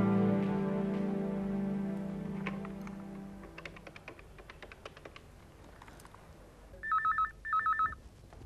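Keys tap and click a few times after a fading hum, then a phone's ringback tone sounds in two short bursts, clear and near.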